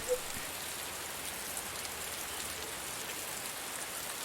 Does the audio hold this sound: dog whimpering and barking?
no